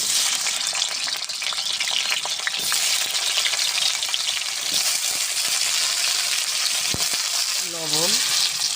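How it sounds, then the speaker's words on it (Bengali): Bottle gourd and potato sizzle steadily in hot mustard oil in a village kitchen, a dense continuous frying hiss with occasional stirring clinks and a brief voice-like tone near the end. "এবার লাউ আর আলুটা ভেজে নেব রসার জন্য।"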